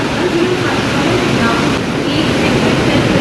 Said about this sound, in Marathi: दादर सावंतवाडी गाडी आलेली आहे बरोबर ऑन टाईम